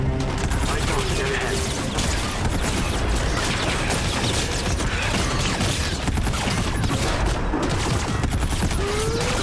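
Continuous heavy gunfire fills a battle scene in Call of Duty: Infinite Warfare, dense and loud throughout with mechanical clatter mixed in and no pauses between the shots.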